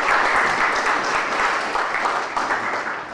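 Audience applause at a talk on designing behaviour: a broad, steady patter of many hands clapping, fairly close and even in loudness, with no speech over it.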